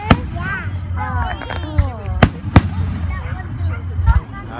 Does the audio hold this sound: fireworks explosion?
yes